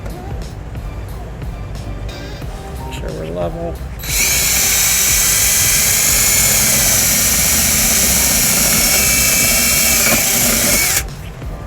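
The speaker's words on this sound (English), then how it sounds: "I'll go ahead and just drill out the other side here" A power drill bores through the body of a 2019 Kia Sorento during trailer wiring installation, a loud sustained high-pitched whine lasting several seconds after brief talk and handling noises.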